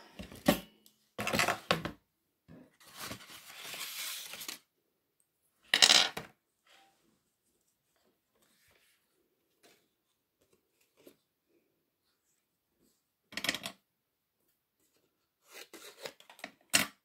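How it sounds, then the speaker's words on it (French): A massicot guillotine paper cutter slices through card in a few separate bursts of crisp cutting and handling noise, each set apart by stretches of near silence, with no talk. "je vais couper au massicot, ça sera plus pratique"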